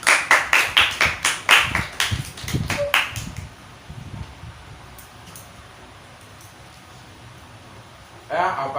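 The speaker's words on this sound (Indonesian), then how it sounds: "Ya, beri tepuk tangan dulu dong untuk kelompok 1." A class applauds a group after a microteaching presentation with a few seconds of sharp, close handclaps, about a dozen strikes, before fading to quiet room noise and a faint fan hum.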